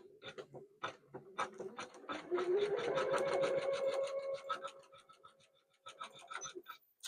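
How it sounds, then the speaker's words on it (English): An embroidery sewing machine stitches a flower design in blue thread on an in-the-hoop wall hanging, making a fast, steady rhythmic whirring and clatter up close, with no voices. "So here we go with the flowers."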